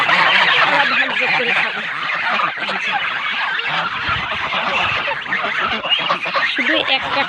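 A dense flock of geese honking and squawking loudly and continuously while eating jackfruit, many overlapping calls close by with constant chatter throughout.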